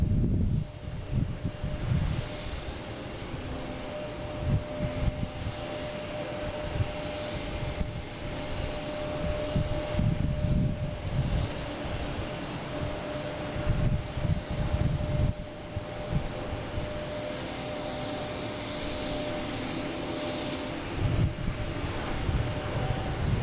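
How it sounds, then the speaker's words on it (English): A JetBlue Airbus A220 from Buffalo arrives at Boston Logan on a calm evening, a distant low jet rumble sustained throughout and steady in level, with faint hum beneath. "We got JetBlue coming in from Buffalo,"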